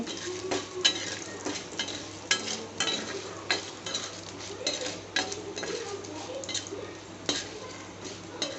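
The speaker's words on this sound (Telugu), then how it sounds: "మాడిపోకుండా బాగా బ్రౌన్ కలర్ వచ్చేలాగా వేయించుకోవాలి" Food frying in a pan until browned, with a soft sizzle under repeated metal clinks and scrapes of a spoon stirring against the pan, steady and close with no talking.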